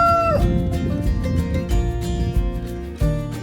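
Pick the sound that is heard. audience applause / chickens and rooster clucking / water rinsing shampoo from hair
chickens and rooster clucking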